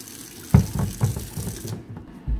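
Warm water runs from a tap into a container for mixing fiber reactive dye powder, a close, splashing trickle with small bursts that cuts off near the end.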